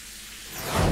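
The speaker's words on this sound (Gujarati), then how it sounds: "પાટણ જિલ્લામાં આજે સાર્વત્રિક રીમઝીમ રીમઝીમ વરસાદ વરસ્યો છે" Steady hiss of light monsoon drizzle in Patan district, Gujarat, that swells louder toward the end, with no voices present.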